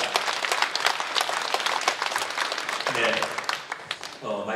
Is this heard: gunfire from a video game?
no